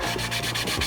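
A damp rag rubbing across Peruvian walnut wood, a steady close scrubbing with rhythmic strokes about every tenth of a second, loud and alone.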